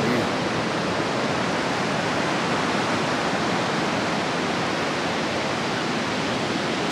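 Sea waves at the shore of Yuguang Island in Tainan, Taiwan, give a steady, loud, broadband wash of surf that runs unbroken from start to end with no voices.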